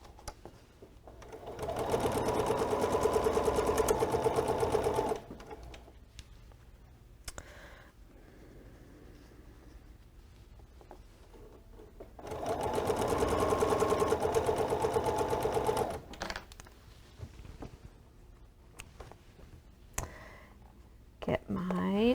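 A sewing machine stitches quilt fabric pieces, running in two steady, close, buzzing runs of about three to four seconds each, separated by quieter pauses with brief handling clicks.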